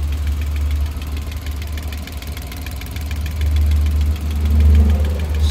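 A Suzuki DA17 van engine idles steadily and loudly nearby, with a deep continuous rumble and faint rhythmic ticking, swelling slightly toward the end.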